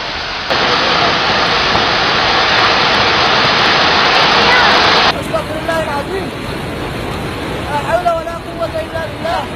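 A debris flow of water, mud and rocks rushes past as a loud, dense, continuous roar. About halfway through it drops abruptly to a lower, rougher churning.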